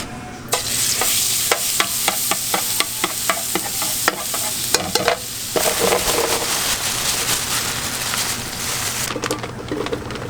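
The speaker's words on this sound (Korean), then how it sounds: "이거 튀기거든." Food fries in a pan at a Korean market buffet kitchen with a steady loud sizzle, while a utensil stirs and scrapes in regular taps over the hiss.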